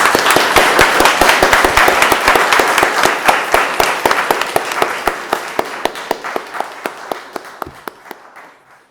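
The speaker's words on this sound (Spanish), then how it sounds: "un gran aplauso" Audience applause after a book-club session on Chinese classics, starting as a loud, dense burst of clapping that thins out into fewer, slower individual claps before fading away.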